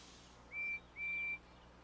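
Two quiet, distant, steady steam engine whistle tones from Thomas & Friends, a short blast and then a longer one, sounding alone over faint background hiss.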